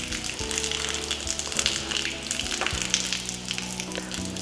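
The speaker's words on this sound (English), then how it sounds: "I'm gonna actually flip this up, go down, and that's gonna drain on the ground" Water from a Truma water heater on a Winnebago EKKO Sprinter 23B drains onto the ground in a steady, hissing, sizzle-like spatter, continuous and fairly close with a low background hum.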